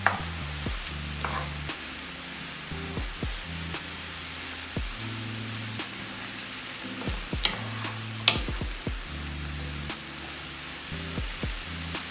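A spoon scrapes and knocks around a pot of Jamaican-style callaloo stir fry with pasta, irregular clatters and scrapes over a soft continuous sizzle, close by with no talking.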